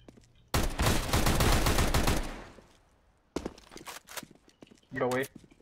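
Rapid pistol gunfire in a Counter-Strike match on Mirage: a dense burst of loud, overlapping shots for about two seconds, then a few scattered single cracks and a short tonal blip near the end.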